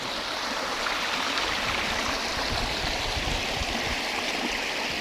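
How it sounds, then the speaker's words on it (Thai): A clear, cool stream flowing beside land near a waterfall in Saraburi, Thailand, a continuous close rushing and gurgling of water over rocks, steady and unbroken with no talking. "นี่ ลำธารน้ำใสๆ ไรเย็นฮะ"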